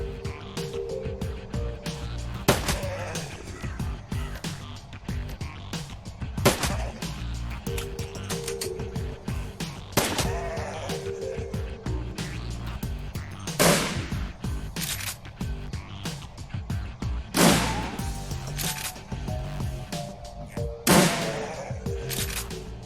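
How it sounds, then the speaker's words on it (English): Gunfire in the video game Shadowrun Returns cracks out in sharp bursts every few seconds over a low rumbling background, with no talking. "You listen as the sounds of gunfire and spell bursts fade away"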